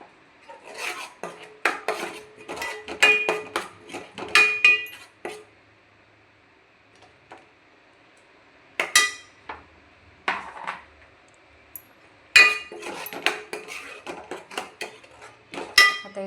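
Masala paste being stirred and roasted in a pan for a mutton curry, with repeated metallic scraping and clinks of a spoon against the pan in bursts, separated by quiet pauses.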